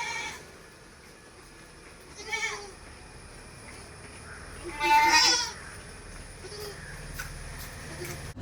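Malabari milk goats, a nanny with young male kids, bleat in a few short cries against a quiet farmyard background, with one louder, closer call standing out.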